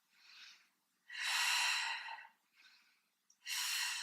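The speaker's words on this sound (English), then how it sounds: "Inhale, exhale." Breathing during a Pilates spine stretch forward exercise, close and clear with no talking: softer inhales alternate with longer, forceful airy exhales in a steady rhythm.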